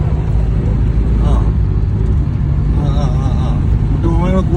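An Ambassador car climbs a hill road with hairpin bends toward Idukki, its engine giving a steady low rumble throughout while people talk inside.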